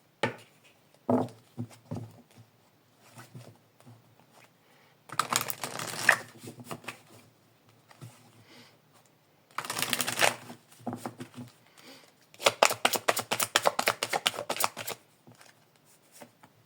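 A deck of oracle cards is shuffled in three separate rustling, riffling bursts, close and fairly soft, with quiet gaps and small clicks between.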